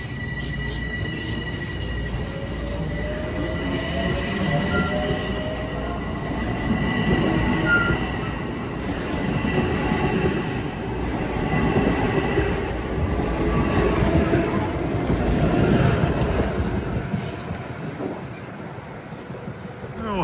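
A Metro-North commuter train rumbles steadily as it pulls away from Hartsdale station, wheels clacking and squealing on the rails for a long stretch, close by.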